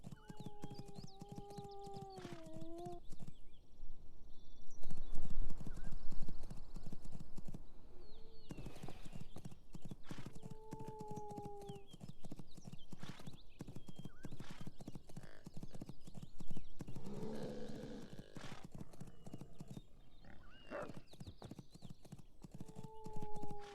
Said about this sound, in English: And a bunch of horses.